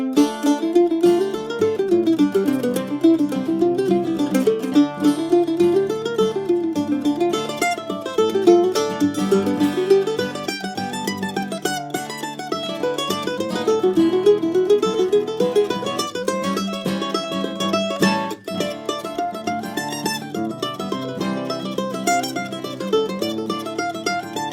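Fast bluegrass mandolin picks out a fiddle tune, bright tremolo-rich notes and runs played solo, close and steady for the whole stretch.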